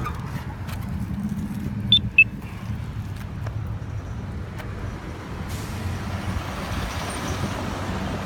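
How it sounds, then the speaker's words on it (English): Trucks and cars rumble through a busy intersection in a low, continuous wash of traffic noise at moderate distance, with a brief sharp air-brake hiss early on. "pretty busy intersections, a lot of trucks, cars"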